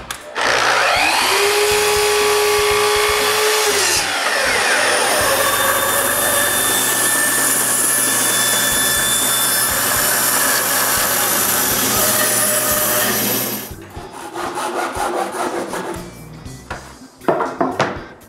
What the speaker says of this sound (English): Next, I cut a notch on 3 of them.